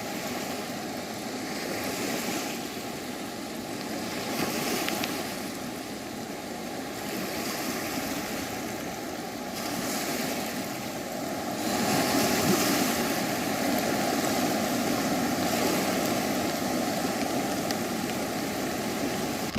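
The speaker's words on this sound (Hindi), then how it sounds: "नदियां उफान पर हैं और अपने अलर्ट लेवल से भी ऊपर जाकर अब बह रही हैं" A flooded river in spate during the Indian monsoon, with rivers above alert level, roars as a continuous loud rushing wash of water, steady with gentle swells and no voices.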